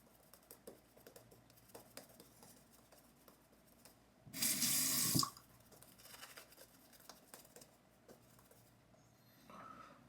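A London Razors razor is rinsed under a running tap during a shave: a loud, close gush of water lasting about one second, surrounded by a quiet room with faint handling noises.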